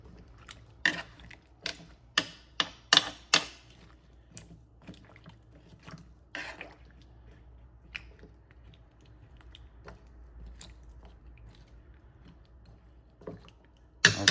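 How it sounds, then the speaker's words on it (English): A spoon works tomato paste into beef stew in a crock pot, a run of wet squishing stirs and scrapes close by, followed by quieter sporadic taps and scrapes. "I want to spread that tomato paste a little bit. Get it mixed in."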